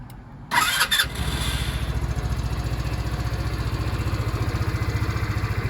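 A Vitacci Tank 200 EFI scooter engine cranks with a brief starter whir, catches, then settles into a steady, evenly pulsing idle close by, with no talking over it.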